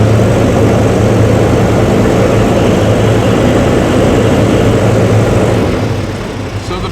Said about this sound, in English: Rev it up here and let's try to hold it.